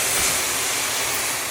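Snow is tipped into a hot pan of sugar and tea leaves that were frying, and a dense, loud hissing sizzle of steam fills the whole moment without a break.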